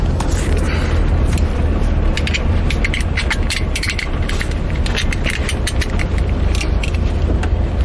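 A 1968 Volkswagen Fastback running with a steady engine drone close by, overlaid by clicking, ratcheting mechanical noises from inside the cabin.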